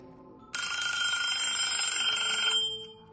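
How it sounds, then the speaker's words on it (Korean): A telephone rings loudly, a bright continuous electronic trill that starts abruptly and holds steady for about two seconds before cutting off, close and alone without any talk. "전화벨이 요란하게 울려 퍼졌습니다."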